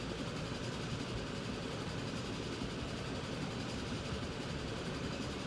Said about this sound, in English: Let's take a ride on the train.